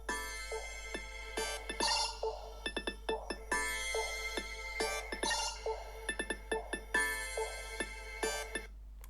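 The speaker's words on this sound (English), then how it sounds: "this is the ringtone that I create" A bright electronic custom ringtone melody on a Nothing Phone 2a plays on its own, repeating rhythmic chime-like notes with short percussive accents, fairly close and steady in loudness.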